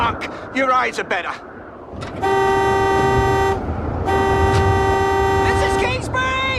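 A car horn in a snowstorm blares in two long sustained blasts, loud and close, with shouting voices before and after and rushing wind noise throughout.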